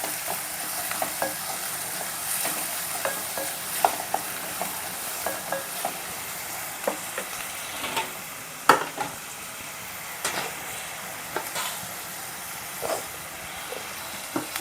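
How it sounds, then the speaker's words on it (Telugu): Onion and broad beans sizzle and fry in a pan with steady crackling, broken by repeated sharp clicks and scrapes of stirring, recorded close with no talking. "ఉల్లిపాయ 1 నిమిషం మగ్గనిచ్చాక చిక్కుడుకాయలు కూడా వేసుకున్నాం."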